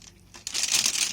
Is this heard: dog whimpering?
no